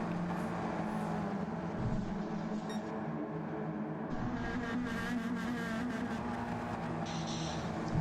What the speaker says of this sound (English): trying to handle these heavy cars around this fast half-mile racetrack